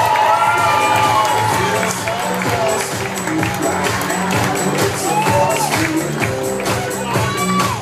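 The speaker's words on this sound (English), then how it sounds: "A big round of applause for Megan Caparici" Wedding guests at a Laguna Beach reception cheer, whoop and clap for a grand entrance, a loud, dense crowd roar with shouts and whistles carried over music throughout.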